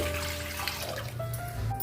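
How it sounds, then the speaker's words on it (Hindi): Water pours steadily into a large pot for yakhni stock, a continuous close splashing rush that holds evenly for a couple of seconds. "अभी इसमें हम बहुत सारा पानी डाल देंगे।"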